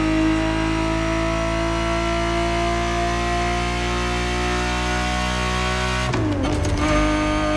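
The engine of a 1970s Ferrari 365 GTB4 in the racing game The Crew Motorfest holds a loud, steady droning note, then shifts abruptly near the end.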